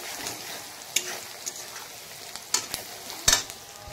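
Masala of ground coriander and cumin frying in oil in a pan, a steady close sizzle with occasional sharp clicks and scrapes of stirring, no voices.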